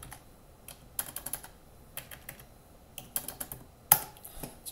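Computer keyboard keys are pressed in short, irregular clusters of light clicks during accounting software entry, close and fairly quiet, with no talking.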